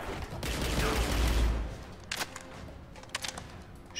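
In the video game Riddick: Escape from Butcher Bay, a burst of gunfire erupts, followed by a few sharper, separate shots and impacts over low background game ambience.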